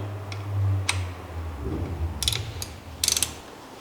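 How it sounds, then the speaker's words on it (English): A torque wrench fitted with a 3mm Allen key tightens bolts on a Brompton Advance rack, giving a few short, close ratchet clicks in small bursts over a low background hum. "Next, I'm going to do up the bolts using my 3mm Allen key on my torque wrench"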